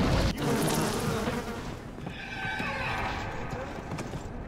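A swarm of bees buzzes in BioShock, a steady droning hum that holds for several seconds at moderate level beneath a sharp knock at the start.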